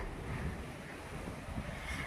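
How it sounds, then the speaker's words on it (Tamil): A strong wind blows outdoors on an evening before a rainstorm, buffeting the microphone in a steady, low roaring rush with no voices. "இப்போ கூட நல்ல காற்று இருக்குது"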